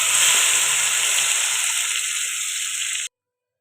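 Ground spice paste for tomato rasam hits a hot pan with curry leaves, giving a loud, steady sizzle and hiss from close by that fades slightly before stopping abruptly.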